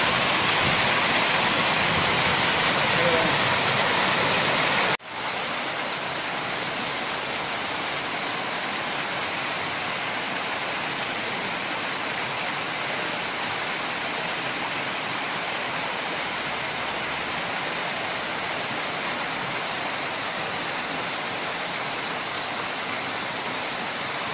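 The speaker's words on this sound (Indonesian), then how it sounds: "Ini air terjun Tekorak Brosis nih." Rushing water of Tengkorak waterfall, a constant roaring hiss of falling water heard up close, loud and unbroken, with a brief cut a few seconds in before the roar resumes slightly softer.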